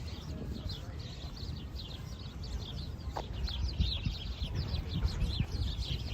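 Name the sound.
birds chirping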